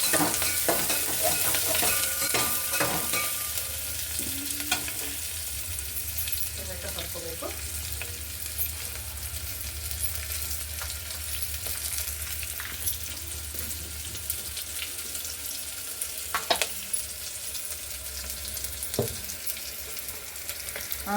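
Onions sizzle and fry steadily in a hot pan for a Kannada-style bendekayi gojju, with occasional scraping stirs of a spatula over the continuous crackle and no talking.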